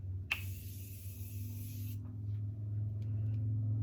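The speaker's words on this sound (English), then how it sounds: "Next, I'm just going to spray my face." A single sustained hiss of a face mist spray, about a second and a half long, close up, over a low background hum.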